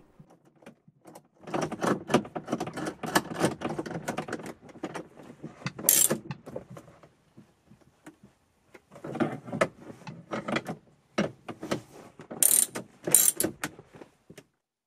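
A ratchet tightens two 10mm bolts on the front stereo panel of a 1999 Acura RL. Two separate bursts of close, rapid ratcheting clicks are split by a quiet gap, with a few sharper metallic clacks.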